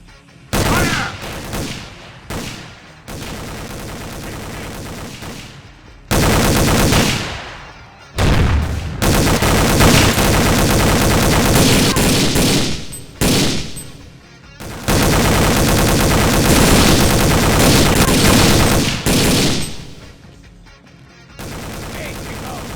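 Bursts of automatic gunfire in the shooter Boiling Point: Road to Hell, loud and sustained, in several long volleys separated by short pauses. Voices are shouted between the bursts.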